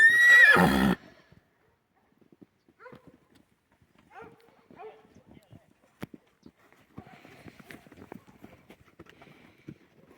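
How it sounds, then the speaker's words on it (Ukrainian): A loud, close horse whinny bursts out at the start, followed by quieter scattered animal sounds and faint distant noises, in the village of Kosmach. "Відти йдуть ще коні."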